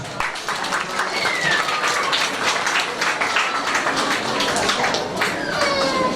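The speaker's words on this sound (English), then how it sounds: "give yourself a round of applause" An audience at a primary school induction ceremony breaks into applause, a broad, continuous patter of many hands with a few whistles and voices rising above it.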